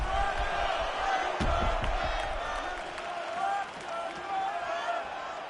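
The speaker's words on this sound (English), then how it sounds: "the crowd voicing its appreciation after that round" An arena crowd in the EA Sports UFC 5 video game cheers and murmurs after a featherweight round. The steady, moderate roar swells and dips, and voices are mixed into it.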